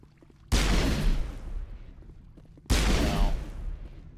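Gunfire in a Mass Effect video game fight: two loud, booming blasts about two seconds apart, each with a long, rumbling decay that fades slowly.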